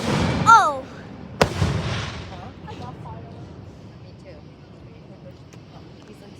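Fireworks going off outdoors, with a loud burst and crackle early on, then a sharp single bang, followed by fading rumbling and crackle; people exclaim excitedly throughout.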